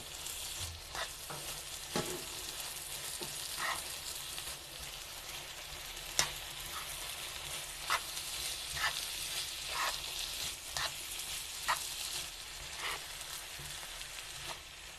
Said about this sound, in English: So lastly, we go ahead and add our spinach. And stir.